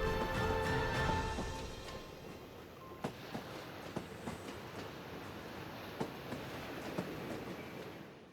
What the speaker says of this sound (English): the train curling along that narrow strip with almost no side barriers